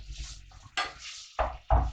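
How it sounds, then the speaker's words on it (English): Ground meat sizzling in a hot pan for spaghetti bolognese, with the scrape and clatter of a utensil stirring it in short bursts. "You can hear it sizzling away."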